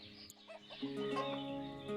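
Chickens clucking in a coop in the village-building game Ostriv, short soft clucks and a few chirpy calls layered over a faint ambient bed, fairly quiet and brief.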